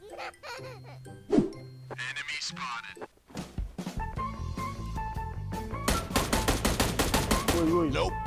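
Rapid bursts of gunfire in the mobile battle royale game PUBG Mobile, sharp repeated shots rattling loudly in quick succession, with people talking over the game sounds.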